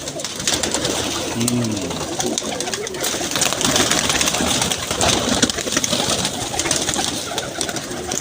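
A golden pigeon coos once amid a busy, noisy background of rustling and clatter, with other bird sounds faint behind it.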